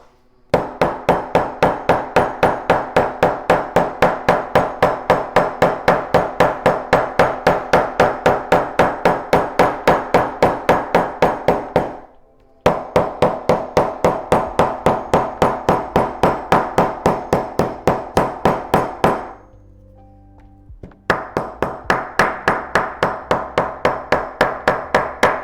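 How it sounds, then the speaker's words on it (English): Steady hammer strikes ring out in a fast, even rhythm, loud and close, with two short pauses breaking the run of blows. "let's do some hammering"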